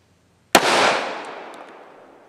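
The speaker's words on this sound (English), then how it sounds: "Elite ammunition T6 rounds out of a 12-inch SBR AR-57 velocity test" A single sharp gunshot from an Elite T6 round fired out of a 12-inch SBR AR-57, a loud close crack followed by a long fading outdoor echo, alone with no talk.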